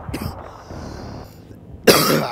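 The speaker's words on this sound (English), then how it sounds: "Sorry about my cough" A single sharp, loud cough bursts out near the end from a player during a Battlefield 3 multiplayer match, following a stretch of quiet game ambience.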